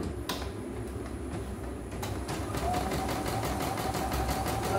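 A CNY E900 CNC embroidery machine stitches slowly after repair, starting with a few isolated clicks and then settling into a steady, rapid mechanical clatter with an underlying motor hum, close by.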